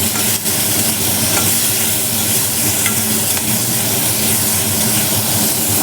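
Food frying and being stirred in a pan, a steady dense sizzle with scraping strokes that runs loud and unbroken throughout, with no voices.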